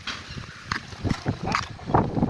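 Gusts of wind buffet the microphone outdoors in a strawberry garden in irregular bursts, producing low rumbling thumps and brief blasts of rushing noise.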